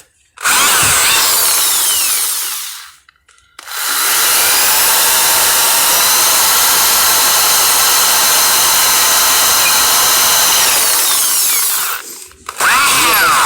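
A power tool fitted with a milling cutter works on an Inter 9800 truck hub, running in two long, loud, steady whining bursts, the first about three seconds and the second about eight seconds, with a brief pause between and a restart at the end.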